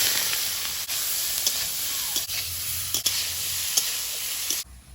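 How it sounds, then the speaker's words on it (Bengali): Prawns fry in a little oil in a wok, giving a continuous close sizzle and hiss with small crackles and occasional soft clicks, ending abruptly. "কড়াইতে অল্প তেল দিয়ে চিংড়ি মাছটা একটু ভেজে নেব"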